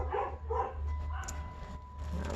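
Dogs bark in a summer neighbourhood, distant and fairly faint, a few yaps and woofs over a low steady hum.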